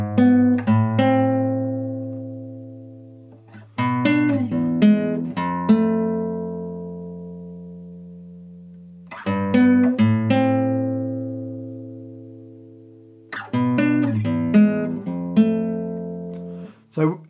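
A solo guitar plays a melody from The Last of Us Part II in three short phrases of plucked notes. Each phrase ends on notes left ringing to decay, followed by a quiet gap, close and clear with no talking.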